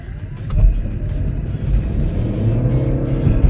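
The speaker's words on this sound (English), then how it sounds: "You can hear the engine kick on because when it's needed, it'll be able to add a little bit of boost." The petrol range-extender engine of a Chevy Volt kicking on while driving: a low, steady engine rumble that swells slightly and holds under road noise, heard from inside the car with no talking.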